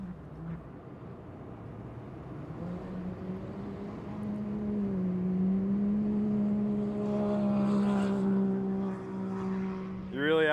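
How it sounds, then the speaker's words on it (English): Steady, droning engine hum from a huge custom off-road bike built as little more than an engine and two big wheels, rising slightly in pitch at an off-road party, with people talking nearby. "There's Ethan's bike. It's quite literally an engine and two big wheels."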